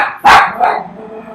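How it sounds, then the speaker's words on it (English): A small Havanese dog barks twice nearby, a loud sharp first bark followed by a softer second one, with no talking. "And the dog is barking."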